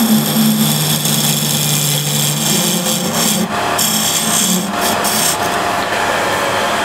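A wood lathe runs loudly and steadily while a tool cuts a tenon on a spinning wood blank, giving a continuous close grinding, scraping whir with slight shifts in tone as the cut changes.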